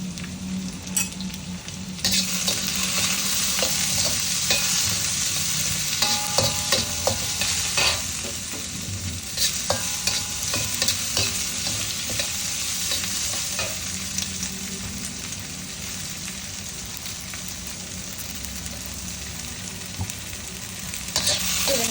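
Garlic and tomatoes frying with potatoes in a pan for mushroom gravy give a steady, loud, close sizzle, with stirring scrapes and clinks running throughout and no talking.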